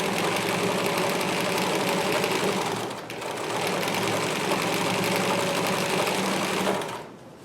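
A vintage Singer 319K sewing machine runs loud and close, stitching in a continuous buzzing whir with a short dip midway before it stops near the end.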